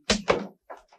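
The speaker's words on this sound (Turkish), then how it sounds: "Lan aç kapıyı be." Two heavy thuds from a stuck door being yanked and rattled, followed by a couple of softer knocks; close and loud with no talk over it.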